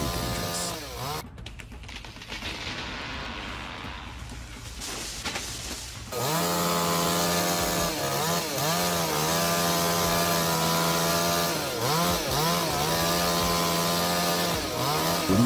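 Chainsaw cutting a cedar tree: first a rough, gritty stretch of cutting, then the engine rises into a loud, continuous whine with repeated revving swells and dips, close by.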